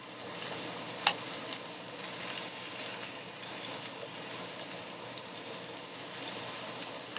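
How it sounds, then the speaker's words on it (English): Onions sizzle in a hot skillet alongside filet mignon and bacon, a steady close crackle with a few brief sharper pops and no talking. "you can scatter your onions as best you can around the pan"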